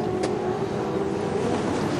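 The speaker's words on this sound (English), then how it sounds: "Engines come up to revs and they get off the line." Touring car engines building revs together on the grid at the start of the 1992 Bathurst 1000, a sustained loud droning roar with a brief burst near the beginning and no talk.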